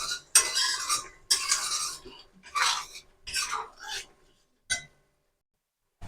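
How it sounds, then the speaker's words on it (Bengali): Spinach and spices are sautéed in a pan, with a spatula scraping and rattling in several loud, separate bursts and short quiet gaps between them. A final brief clink comes near the end. "আবারও আমি ভালো করে মশলাটা কষিয়ে নেব, পালং শাকের কাঁচা গন্ধটা তাহলে চলে যাবে।"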